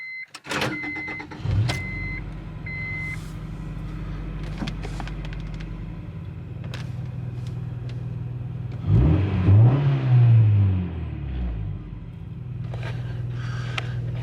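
Inside a car fitted with a Yonaka catback exhaust, the engine idles with a steady low drone, revs up briefly in the middle, then settles, with a few clicks and interior whirs, heard up close in the cabin.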